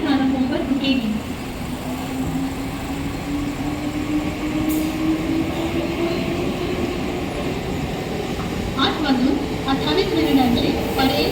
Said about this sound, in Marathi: प्लॅटफॉर्म क्रमांक 3 पर आई हुई लोकल 8:35 की अंबरनाथ जाने वाली तेज लोकल है।